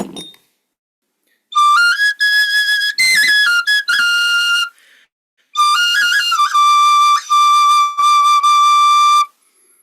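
A shrill turkey-bone whistle, sealed with black pine pitch glue, blown in several short bursts, the pitch sliding and warbling between notes, loud and close, with brief silences between phrases.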